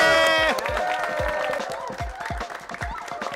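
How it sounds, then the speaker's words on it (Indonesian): A crowd applauds and cheers for a junior football team at a match, clapping and voices rising together with scattered whoops and thumping beats over music. "Berikan tepuk tangan yang meriah untuk mereka."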